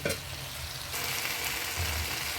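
Okra and bori lentil dumplings sizzle steadily in an oiled pan while being stirred, a close, continuous frying hiss with soft scraping throughout.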